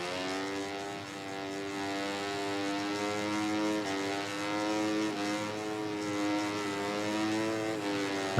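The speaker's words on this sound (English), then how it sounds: "Can't really hear ourselves because we've got a bike right on our exhaust pipe." Racing motorcycle engine and exhaust in the video game MotoGP 20, a sustained buzzing drone with shifting pitch as revs rise and fall, loud and continuous with no talk.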